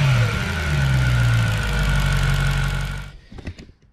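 A faulty BMW M3 E92 engine roars at high revs for about three seconds, then cuts off abruptly, leaving a few faint knocks and clatters.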